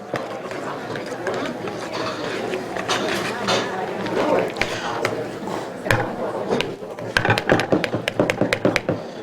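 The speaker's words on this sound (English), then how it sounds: "Whisk that all together." A whisk beats garlic and pepper together in a bowl of seasoning while cooking steak for a crowd, making quick metallic taps and scrapes that grow sharper and more rhythmic near the end, under steady background chatter and talking.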